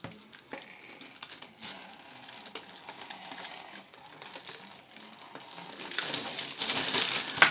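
Scissors cutting through a paper sewing pattern piece for maternity yoga pants, a close, continuous crisp snipping and rustling that grows louder toward the end, with no talking.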